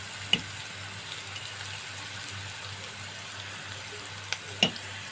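Onion and garlic fry gently in a pan, a faint steady sizzle close by with a few small clicks and taps from stirring, no talk.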